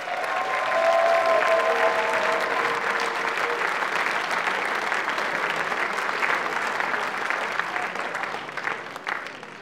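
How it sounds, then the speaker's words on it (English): Hall audience at a Pan Celtic international song contest applauding loudly and continuously, with faint crowd murmur underneath as the clapping slowly tapers off. "Give them both a big round of applause."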